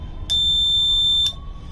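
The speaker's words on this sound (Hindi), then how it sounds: "जैसे ही हम एचवी ऑन करेंगे आप देखिए बजर की साउंड भी आ रही है" SIGMA high voltage tester buzzer sounding as the HV output is switched on, a single loud steady electronic tone lasting about a second over a low background hum.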